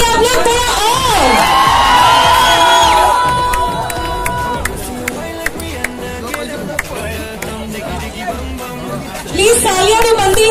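A crowd at an event held at the Aqua Water Park cheers and shouts loudly and continuously, with children's yells and whoops mixed into the din; music or tonal sounds rise early on and the noise swells again at the end.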